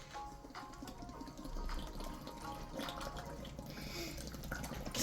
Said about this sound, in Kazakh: су құяйық.